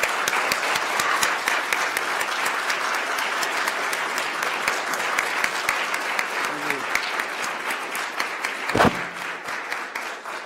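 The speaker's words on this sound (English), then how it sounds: "We have a round of applause for both candidates now." A forum audience claps for two Maryland attorney general candidates, dense sustained applause lasting about ten seconds, loud and even, with a brief louder burst near the end.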